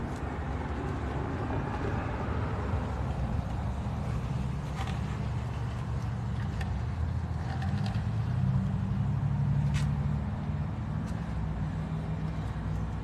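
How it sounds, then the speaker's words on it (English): Road traffic on a busy route streams past continuously, a low steady engine rumble with a louder vehicle swelling by near the middle, no talking over it. "Lots of motorcycles go through."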